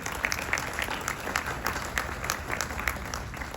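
A convention crowd at a Star Trek fan event claps for the parents in the room, dense continuous applause filling the space, fairly loud and steady with no talking on top.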